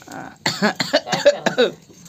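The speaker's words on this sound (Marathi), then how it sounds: "खोकला आला ना मला" A man coughs in a short cluster of several harsh coughs close by, with faint background noise between them.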